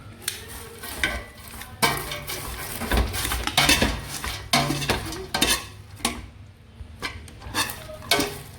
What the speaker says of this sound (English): So I'm stirring very fast because the sugar is already caramelizing.